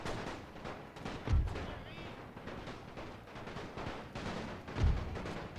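Gunfire in The Great War multiplayer battle game, aimed at cavalry during the Invasion of Serbia: a steady crackle of distant rifle shots with two heavier booming reports standing out, all under continuous battle noise.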